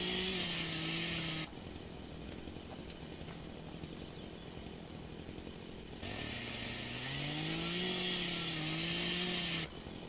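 A chainsaw cutting trees in the Farming Simulator 2013 video game, its engine roaring loud and steady at high revs, easing off to a lower idle drone in the middle before revving up again.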